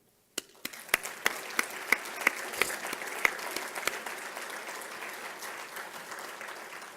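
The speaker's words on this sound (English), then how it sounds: "So please help me applaud the search committee." Audience applauding a college search committee, starting suddenly and building into steady, moderately loud clapping from a room of people, with a few sharp individual claps standing out.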